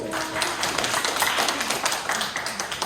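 A church youth-service congregation claps together, a continuous rapid patter of many hands filling the room at fairly close range.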